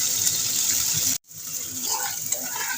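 Water pours steadily into a pan of potatoes for a rohu fish curry, a continuous splashing gush that cuts out abruptly, then resumes as a softer hiss and bubbling in the pan.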